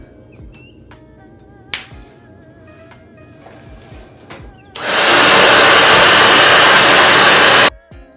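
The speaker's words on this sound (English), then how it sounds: "put the blow dryer attachment right here" A blow dryer with a hood attachment drying natural hair set in curlformers switches on after a few small clicks and handling sounds, blows as a loud steady rush for about three seconds, then cuts off.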